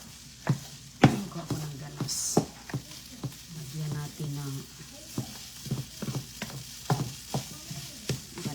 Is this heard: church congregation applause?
no